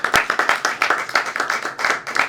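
At an investor and entrepreneur networking event, a small crowd gives a round of applause: close, distinct claps in quick uneven rhythm from a modest number of hands, with no speech.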